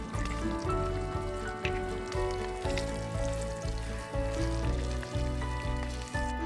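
Sausage with tomatoes, cheese chunks and beaten eggs frying in a pan in a forest house, a soft continuous sizzle with faint crackles beneath a steady low hum.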